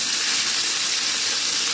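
Chicken pieces fry in plenty of hot cooking oil at home, giving a continuous, fairly close sizzling hiss that stays even throughout, with no talking.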